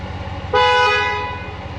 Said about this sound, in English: That horn sounds aggressive,